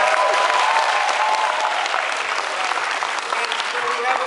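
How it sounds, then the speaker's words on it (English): Audience applauding the projector crew of a school shadow play, a dense, steady wash of clapping from a crowd in a room that holds throughout. "Let's give them a applause."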